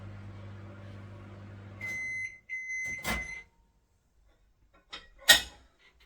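A microwave oven heating bread rolls hums steadily, then stops and gives a short series of beeps, followed by the door clicking open and a couple of sharp clunks close by.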